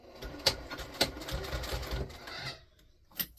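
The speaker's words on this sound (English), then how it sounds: "we're going to stitch down the edge of our binding here, just right along the edge" A sewing machine stitches down the binding edge of a fabric basket in a steady mechanical run of about two seconds, with a couple of sharper clicks, then stops and gives one last tap.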